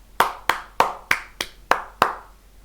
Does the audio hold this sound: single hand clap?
yes